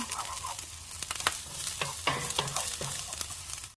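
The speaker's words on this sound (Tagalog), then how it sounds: "Isusuti lang muna natin yung garlic guys hanggang sa maging light brown" Garlic sautés in hot oil in a pan for a mixed vegetable stir-fry, a close, steady sizzle broken by sharp crackles and a few stirring scrapes, with no voices.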